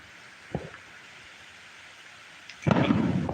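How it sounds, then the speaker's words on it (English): Steady rain hisses in the background at a camp in Wyoming, then swells into a louder, denser patter of drops near the end, with a brief knock early on. "Can y'all hear the rain?"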